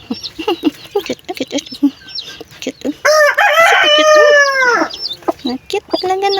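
Newly hatched baby chicks, ten of them, peep near a new mother hen, with a loud, sustained run of bird calls in the middle and a voice talking before and after.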